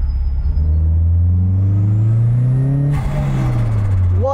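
A loud, close Toyota MR2 engine, fitted with a minivan motor, revs up steadily, its pitch climbing, then drops off with a burst of rushing air as it settles back.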